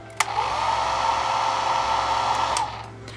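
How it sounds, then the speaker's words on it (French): A handheld hair dryer fitted with a diffuser attachment blows on curly hair at low speed, a steady whooshing hum that starts with a click, runs close and even, then cuts off. "j'allume le sèche-cheveux et je sèche"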